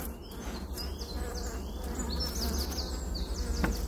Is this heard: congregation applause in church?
no